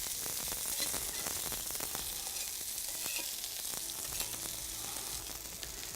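Fish cakes sizzling loudly in a pan inside a wood-fired oven, a dense continuous crackling hiss with sharp pops throughout and no voices.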